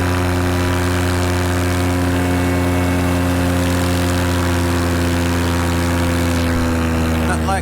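A brand new paramotor engine runs in flight while climbing over a power line, giving a loud, close, continuous droning buzz with rich harmonics and a slight pitch shift near the end.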